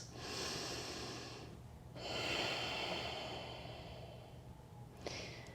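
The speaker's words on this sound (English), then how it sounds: "Really breathe loud enough so you can hear the sound of your own breath" Loud, deliberate yoga breaths during a flowing practice, close to the mic: a long audible exhale, a pause, then a slow drawn-out breath through the nose and another starting, with no talking.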